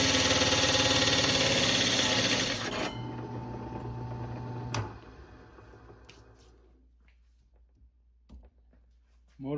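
An electric motor labors under load, a loud broadband grinding drone that cuts off abruptly partway through, followed by a brief clunk and quieter rattling as it winds down.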